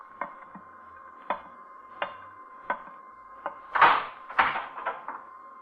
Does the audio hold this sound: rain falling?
no